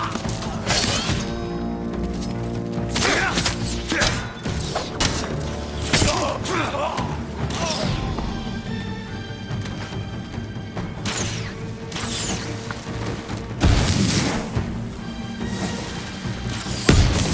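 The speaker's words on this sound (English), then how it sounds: "Just throwing black powder bombs" Black powder bombs go off repeatedly in the video game Ghost of Tsushima, several loud crashing blasts and thuds over a dense bed of game music and combat noise.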